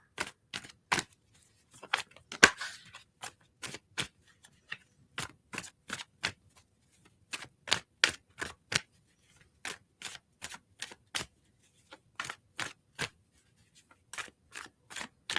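Oracle cards being shuffled by hand, heard as a series of crisp riffling bursts in irregular clusters with brief pauses between, close and clear.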